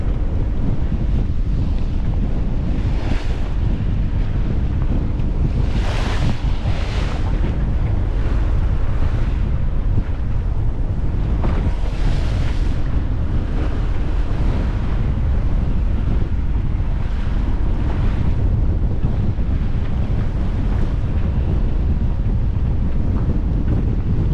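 Strong wind buffets the microphone continuously aboard a sailboat while ocean waves rush and surge, with periodic louder splashes over a heavy low roar.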